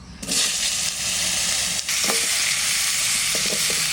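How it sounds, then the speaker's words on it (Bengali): Raw green banana and potato pieces fry in a pan alongside already-fried magur catfish and roe, a loud continuous sizzle with scraping stirs and a few clacks from a utensil. "এর মধ্যেই কলা আর আলুগুলো দিয়ে দিচ্ছি।"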